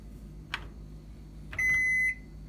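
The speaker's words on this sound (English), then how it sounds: "Press start, you start cooking." A stainless steel Panasonic countertop microwave oven gives a short electronic beep as a button is pressed, then a longer steady tone about a second later, heard close and clear over a faint room hum.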